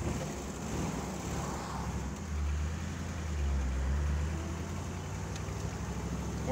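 A 1961 Chevrolet Corvette with the fuel-injected 283 V8 accelerates in first gear with a low, steady engine rumble that swells briefly in the middle, heard fairly faint beneath road and wind noise.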